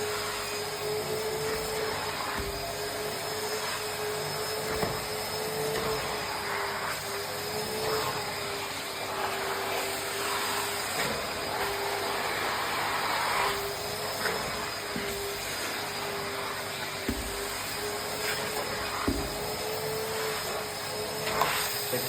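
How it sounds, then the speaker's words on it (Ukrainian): A carpet extractor whines steadily while drawing cleaning solution out of a dirty car carpet, loud and continuous with faint bumps and clicks as the nozzle moves. "подаємо через екстрактор наш засіб і починаємо витягувати"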